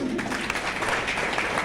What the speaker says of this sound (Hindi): मैं ताली चाहता हूँ उन सभी के लिए।